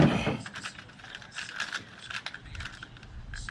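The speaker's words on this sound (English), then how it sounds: "I'm just unscrewing this knob here, and it's allowing me to back the tool out of the threaded nutsert." A rivnut tool being unscrewed and backed out of a threaded nutsert on a Bronco tailgate access panel, giving soft, close mechanical clicks and ratcheting ticks in a quiet stretch, after a louder bump at the start.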